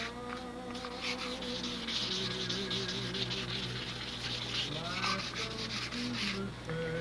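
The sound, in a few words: wet sanding with sandpaper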